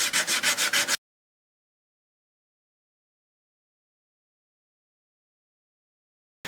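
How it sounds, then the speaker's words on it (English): Old sandpaper rubs by hand across wood during a guitar build, six quick rhythmic scrubbing strokes up close, then an abrupt cut to silence before a brief return at the end. "This is some of the old sandpaper. I'm just using it up."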